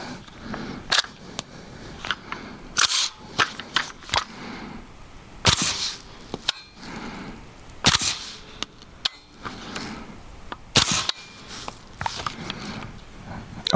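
A radial delayed rifle chambered in 300 Blackout, shooting subsonic rounds, fires a string of sharp, irregularly spaced shots outdoors, each crack short and loud with brief pauses between, and no talking over them.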